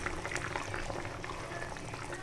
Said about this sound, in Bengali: আমার ঝোলটা বেশ সুন্দর ঝোল মানে ফুটছে